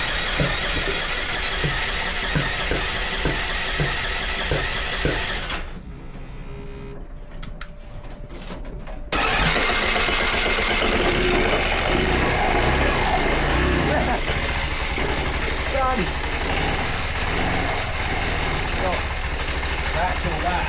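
A rattly motorcycle engine fires up and settles into a steady, clattering idle, dipping briefly before returning louder and running continuously close by while a person talks over it.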